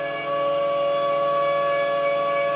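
A civil defense siren wails steadily for the 9:05 moment of silence on 10 November, commemorating Atatürk at Dolmabahçe Palace in Istanbul. It is a loud, sustained, unbroken tone that holds alone without pause, with no voices heard.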